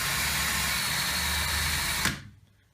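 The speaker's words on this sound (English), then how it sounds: "Now we will try to drill a hole." An electric drill runs steadily at close range for about two seconds, a dense whining roar that cuts off abruptly and fades to near silence.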